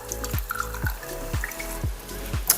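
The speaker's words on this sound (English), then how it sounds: "I use my lid and I fill it up with some warm, clean water." Warm, clean water pours into a lid in gurgling glugs that repeat about every half second, each ending in a downward gulp. Faint splashes and drips sit between them.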